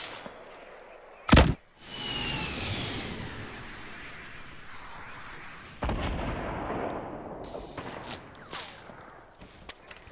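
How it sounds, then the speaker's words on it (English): Gunfire in Fortnite comes as a sharp, loud shot, then rumbling blasts and a second crack midway, followed by scattered smaller pops and rustling movement, with no talking. "Okay, I'm getting shot at."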